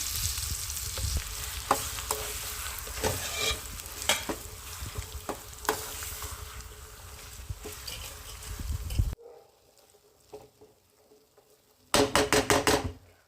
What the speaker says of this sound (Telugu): ఇప్పుడు పసుపు వేసుకొని తిప్పుకుందాము